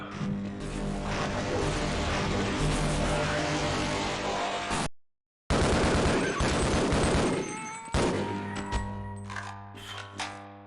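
Shotgun blasts in Half-Life: Blue Shift, loud booming shots amid dense game noise and engine-like drones, one abrupt silence midway, then sharper repeated reports trailing off.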